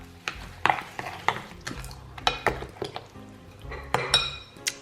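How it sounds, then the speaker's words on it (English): A spoon clinks and scrapes against a bowl while masala marinade with salt and black pepper is stirred, giving a close run of irregular metallic taps and rattles at a moderate level. "What we're going to do is just mix everything together."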